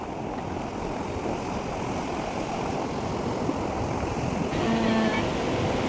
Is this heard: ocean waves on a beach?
yes